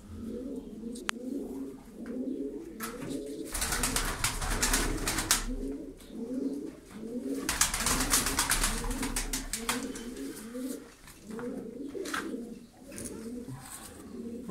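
Tumbler pigeons coo in repeated rhythmic rolling phrases close by, with several birds overlapping, and a few brief rustles and flutters in between.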